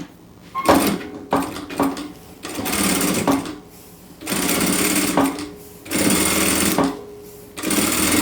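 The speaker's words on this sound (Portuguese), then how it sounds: "vira para cá e rebate com uma costura bem na beiradinha." A sewing machine stitches a topstitched seam right along the fabric edge, loud and close, running in several bursts of steady whirring with short pauses between them and no talking.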